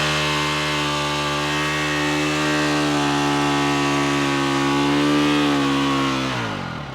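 A dirt bike engine holds a high, strained rev, loud and close, then the pitch drops off sharply near the end as the throttle is released.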